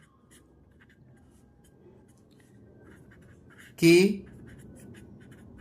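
Faint scratching of writing on a board during a chemistry lesson runs quietly in the background, and a voice speaks one short word partway through.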